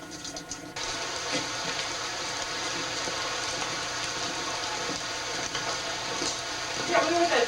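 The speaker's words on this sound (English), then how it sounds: "It sounds like a waterfall." Steady rushing water echoing inside the Kaumana lava tube, like a distant waterfall: a continuous hiss with no breaks, moderately loud, and no talking.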